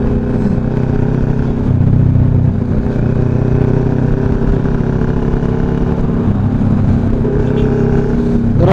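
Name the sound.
motorcycle engine revving after fresh oil change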